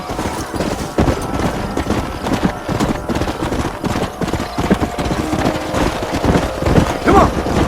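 Horses gallop in Red Dead Redemption, a loud, continuous, rapid clip-clop of hooves with a whinny near the end and voices calling out over the riding.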